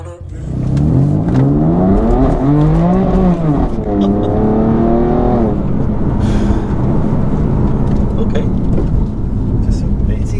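A tuned 700bhp BMW M4 F82 running on a methanol system accelerates gently: the engine note rises and falls through a few gear changes, loud and close inside the car, then settles into steady road roar.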